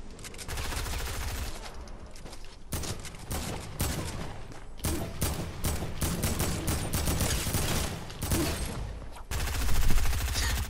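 Video game gunfire rattles in dense rapid bursts and fusillades, loud and nearly continuous with brief gaps, building to a heavier burst near the end; no talk over it.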